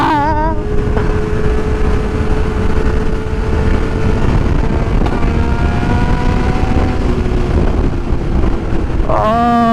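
A 2000 Yamaha R6 motorcycle upshifts using a Healtech quickshifter, its loud engine note holding steady with brief pops and pitch steps between gears, mixed with strong wind buffeting.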